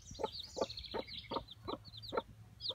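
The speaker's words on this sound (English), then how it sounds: "You can hear them chirping." Baby chicks that have just hatched under a mother hen in a backyard flock, giving a regular series of short, high chirps about every half second, close by and fairly clear over a low background hum.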